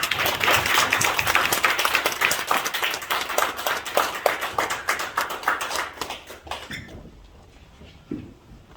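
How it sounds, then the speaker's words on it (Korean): Audience clapping at a church mission council inauguration ceremony, rhythmic and fairly close, gradually slowing and thinning out until it stops, followed by near silence with a faint thump. "박수해 주십시오."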